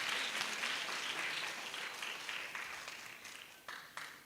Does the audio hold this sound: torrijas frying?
no